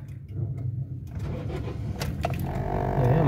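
A Toyota Corolla pickup with leaking fuel injectors and a long-starting fault cranks over and fires, its mechanical churn building into a louder, rising engine roar close by.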